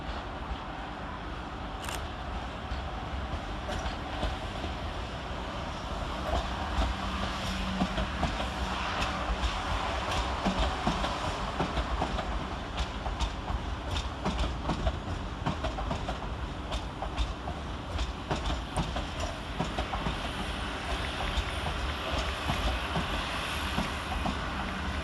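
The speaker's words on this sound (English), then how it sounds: "next into the station, terminating with a Southwestern Railway service off Portsmouth Harbour, is" A South Western Railway train, unit 444010, pulls into London Waterloo station, its wheels clicking steadily over the rails with a sustained rumble and hiss that carries on unbroken and fairly close, with no voices.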